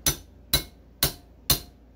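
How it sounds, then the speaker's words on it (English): Hammer tapping a chisel to shear off a metal bracket: four sharp, evenly spaced metallic strikes about half a second apart, close and loud with no talk. "All I got to do is just take a little hammer and a chisel,"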